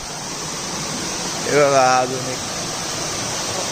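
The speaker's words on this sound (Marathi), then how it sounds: "अजून एक पुढे धबधबा आहे" Rushing water of a waterfall makes a steady, even hiss that fills the whole stretch, with one person speaking briefly in the middle.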